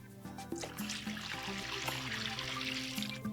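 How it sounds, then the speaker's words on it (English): Water pours steadily into a big plastic bin, a continuous close splashing and trickling over a faint background hum. "So first we'll put in some water."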